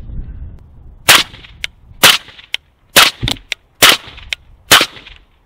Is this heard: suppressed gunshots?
yes